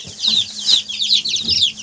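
Geese in a farmyard squawk repeatedly close by, a string of loud, overlapping honking calls with no speech.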